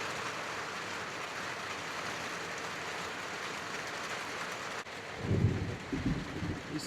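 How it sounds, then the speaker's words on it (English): Steady hiss of rain falling, fairly faint and continuous, with a low rumbling burst near the end. "Yeah, it just started raining."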